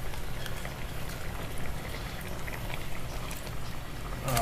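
Red mouth grouper simmering in a cooking pot of water, a steady close bubbling and sputtering boil running without pause, with no talk over it.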